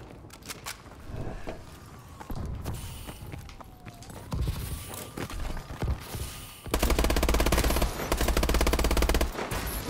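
Rapid automatic gunfire in the video game Call of Duty Advanced Warfare. A dense rattling burst becomes loud and sustained toward the end, over busy game effects and background sounds.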